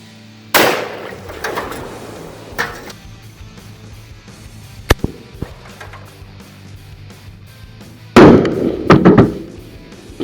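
.500 Magnum revolver firing a 400-grain jacketed hollow point into cinder block walls outdoors: two loud, sharp blasts about eight seconds apart, the second followed by crumbling debris and clatter, with a few faint ticks in between.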